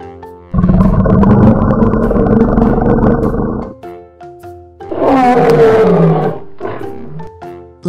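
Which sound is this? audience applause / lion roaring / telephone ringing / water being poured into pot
lion roaring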